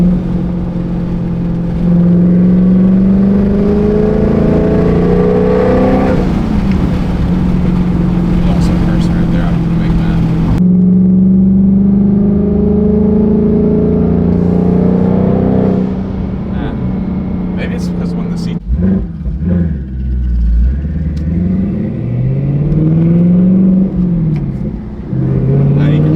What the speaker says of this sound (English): Can we just hear the turbos on this thing?